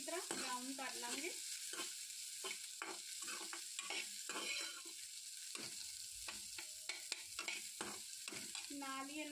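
Onions being fried and stirred until brown for masala idli, with a continuous sizzle under repeated scraping strokes of a spoon against the pan, close and steady.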